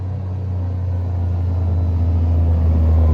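A John Deere Gator utility vehicle's engine holds a steady, loud low rumble up close, its drone growing slightly stronger as the machine pulls in.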